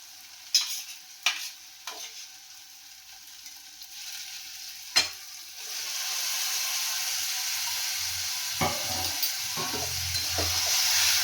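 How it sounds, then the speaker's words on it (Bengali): Pre-fried fish pieces dropped into hot oil with Kashmiri chilli, opening with a few sharp spoon clinks and knocks, then a sustained, building sizzle with scattered stirring taps, close and moderately loud. "এবারে আমি এই দেখো ভেজে রাখা মাছগুলোকে এর মধ্যে আমি দিয়ে দেবো"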